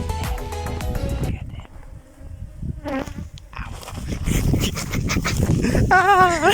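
A huge wild bee colony buzzes loudly up close, a dense swarming drone with individual bees passing near, while people talk and a dog makes a brief sound.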